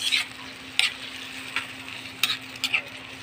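A few sharp scraping clicks of a utensil stirring chicken adobo in a pan, spaced irregularly over a soft steady sizzle and low hum.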